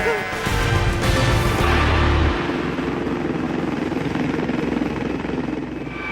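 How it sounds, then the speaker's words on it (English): A Yorkshire air ambulance helicopter lifts off, its loud close turbine whine and rotor thump swelling then easing into a steady drone as it climbs away; no one speaks. "clear the chopper for takeoff"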